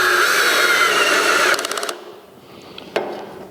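A power driver fitted with a 3/8 socket whines steadily as it drives self-tapping screws during a saw rail and strut assembly, then ratchets in a quick burst of clicks, stops, and gives one brief final pulse, close and loud.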